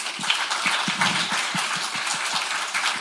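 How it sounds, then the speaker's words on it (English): Applause from a symposium audience honouring the international speakers and session chairs, a steady wash of many hands clapping at moderate distance, continuous for the whole stretch with no voices. "Please give them the big round of applause too."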